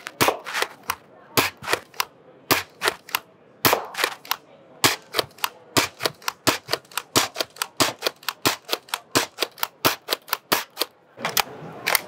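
A Dart Zone Nexus Pro X foam dart blaster fires a full magazine downrange at well-used targets, rapid sharp cracks repeating steadily at close range with brief gaps for the mechanism, no talking.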